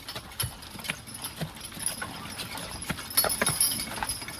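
Logging horses walk on a woodland trail, their hooves clip-clopping in an irregular, moderately close rhythm of soft and sharper steps with faint rustling between.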